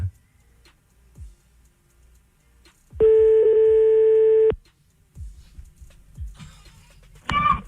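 A telephone line tone sounds during a call placed on a French radio show: one clear, steady beep lasting about a second and a half amid quiet background, followed by a brief sharper tone near the end.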